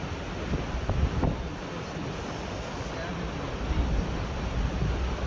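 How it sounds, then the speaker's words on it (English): Strong wind gusts buffet the microphone during the Lahaina wildfire on Maui, a loud, continuous roaring rush that swells and eases over several seconds with no talk. "Oh, that's a nice gust right there."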